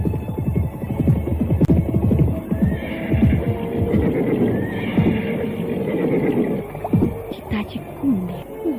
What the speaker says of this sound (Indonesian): Sementara derap kaki kuda makin jelas terdengar.